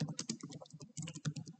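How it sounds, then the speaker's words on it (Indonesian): Quick, close keystrokes on a computer keyboard as a router encapsulation command is entered during network topology configuration, a steady run of light clicks with no talking. "lalu kita ketikkan enkapsulasi lagi"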